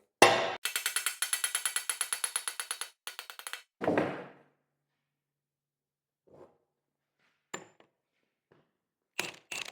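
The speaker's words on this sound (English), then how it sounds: "when I go to punch this out, I don't want that pinion falling" Hammer striking to punch the pinion out of a brand-new, very tight axle. A rapid run of close metallic blows is followed by a heavier thud, then sparse scattered knocks and clinks separated by silence, with no talk.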